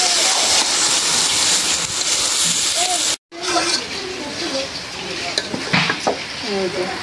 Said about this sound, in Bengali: চাউলার ডালটা ভালো করে ভুনা করে নিলাম একদম ভাজা ভাজা করে নিলে ভুনা খিচুড়ি ভালো হয়